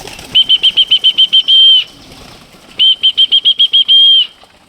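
Racing pigeons flap into a loft trap in two quick bursts of rapid, whistling wingbeats, each ending in a longer sustained flutter, close and loud with no talking.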